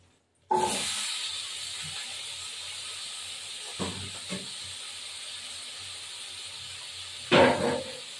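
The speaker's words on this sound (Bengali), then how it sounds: "আলু ভাজবো। এই আলু আর ক্যাপসিকাম দিয়ে দেবো।" Potatoes fry in hot oil for a paneer and potato curry with capsicum, giving a steady close sizzling hiss that starts abruptly and continues throughout, with a few brief clatters.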